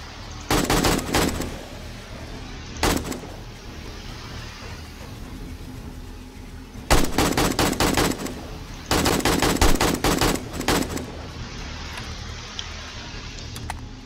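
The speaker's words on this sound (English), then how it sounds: "I got a couple of shots off that." Rapid automatic gunfire in 7 Days to Die during a horde night comes in several loud, sharp bursts, with quieter ambient game sound between them.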